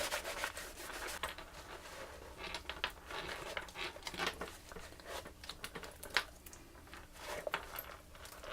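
Steady cloth rubbing over a leather tool pouch to wipe away excess leather conditioner, a close, soft scratchy friction with uneven strokes and faint creaks, no talking.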